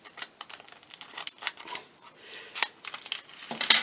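Several short crisp snips and clicks in quick irregular succession, close up, as scissors cut the tip of a plastic piping bag, with light handling noise between them.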